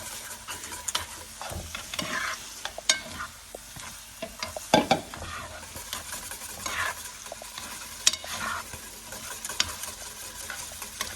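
A bolognese sauce for lasagne, with fresh basil mixed in, is stirred in a pan over low heat, giving a steady sizzle and a run of scraping spoon strokes with a few sharper knocks against the pan.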